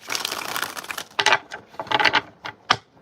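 Tarot cards being shuffled by hand: a dense, rapid riffle of papery clicks, then a few shorter bursts of flicking and tapping, close and alone with no talk.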